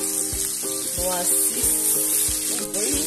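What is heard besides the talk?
onions cooking in a casserole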